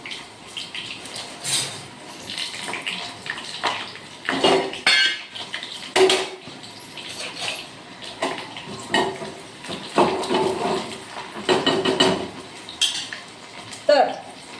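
A spoon clinking and scraping against pots and dishes while cooking onion, chilies and tomato, giving close, irregular metallic knocks and rattles in quick bursts.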